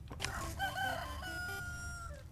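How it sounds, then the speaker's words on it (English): Chicken sound effects in the Poppy Playtime Chapter 3 video game: a loud, close crowing and clucking call lasting a couple of seconds, heard alone without talk. "Freaking chicken sound effects."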